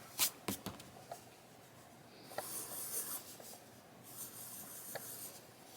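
A pencil scratches across sketchbook paper in short strokes and scribbling passes, close and quiet with pauses between bursts.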